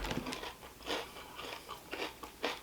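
Bites into a crunchy thin-crust pizza crackle close to the mic in a series of sharp crunches, one every half second or so, with chewing in between and no talking.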